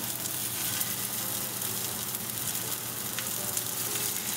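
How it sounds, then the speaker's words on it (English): Potato semolina cutlets frying in oil on a medium flame: a steady, close crackling sizzle runs evenly throughout with no talking. "On medium flame, we're going to cook it."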